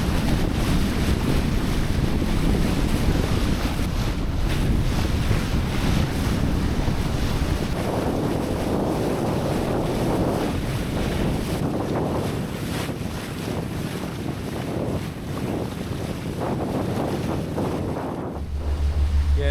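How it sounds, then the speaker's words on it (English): Strong wind roars across the microphone aboard a sailboat off Lofoten as an Arctic snow squall arrives, with constant buffeting gusts and waves washing around the hull. It is loud and unbroken throughout, with no talking. "We had a short gust of 20 knots"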